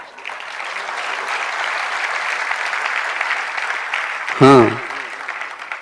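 Sermon audience applauds in a dense, steady ovation lasting several seconds, with a brief spoken exclamation near the end.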